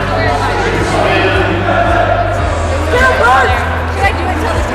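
Crowd noise fills the gym at a high school basketball game between Gaylord St. Mary and Inland Lakes, a steady roar of cheering and chatter with the announcer's voice over it and an occasional bouncing ball.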